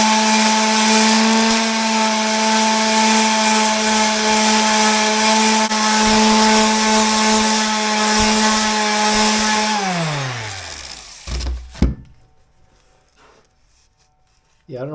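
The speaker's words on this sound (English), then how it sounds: "I'm using 40 grit, just my orbital sander with" An orbital sander with 40 grit paper whines loudly and steadily while removing double-sided tape from the back of a bottom shower door seal, then spins down and stops near the end.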